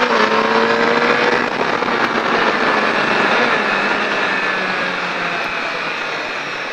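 A Triumph Daytona 675 motorcycle accelerates hard on a track, its engine a loud, close, rising whine that holds strong for several seconds before easing slightly.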